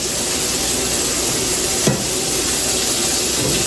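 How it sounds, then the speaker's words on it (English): Meatballs frying on a stovetop give a steady, loud sizzle that runs unbroken throughout, with one faint clink of a utensil as they are flipped and stirred. "It's different cooking meatballs on the stove top. Cause you constantly gotta flip them and flip them around so you let it cook."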